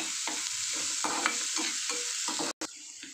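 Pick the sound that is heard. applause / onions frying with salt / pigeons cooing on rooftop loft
onions frying with salt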